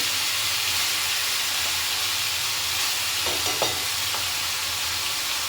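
A paste of tomato and onion sizzles loudly in hot oil, a steady dense hiss throughout. A few brief stirring scrapes come partway through.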